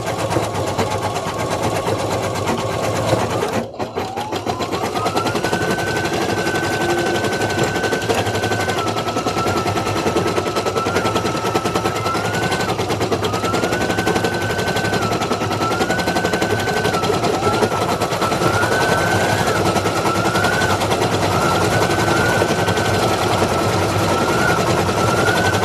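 A sewing machine runs in a fast, steady mechanical chatter, stitching black thread for the nose of a bulldog piece, with a brief clunk near the start before the rapid stitching carries on continuously.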